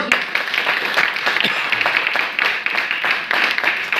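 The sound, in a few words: audience clapping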